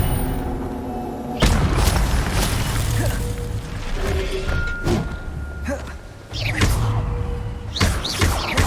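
Spell blasts from the fire spell Incendio in Hogwarts Legacy on PS5 land as a series of heavy booming thuds and crashes, several loud impacts spaced irregularly over game music and effects.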